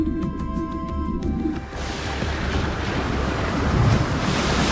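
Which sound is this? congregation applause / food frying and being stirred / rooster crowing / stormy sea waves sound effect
stormy sea waves sound effect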